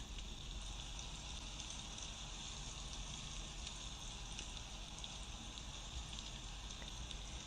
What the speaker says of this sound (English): This Oregon rain at the start of winter falls steadily in sheets of gray,